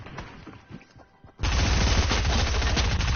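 After a second of quieter game noise, a P90 in a video game opens up in a sustained, loud, rapid-fire burst that continues to the end.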